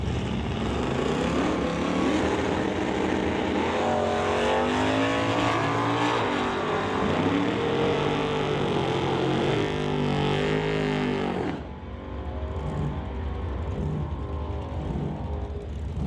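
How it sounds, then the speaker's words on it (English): Oldsmobile and Nova race cars at a drag strip roar loudly and continuously with rising engine pitch, then drop abruptly to a softer, rumbling idle-like drone near the end. "So Randy Hermson coming on up in the Wayne Behemoth Oldsmobile, going up against Burt Worrell in the Nova."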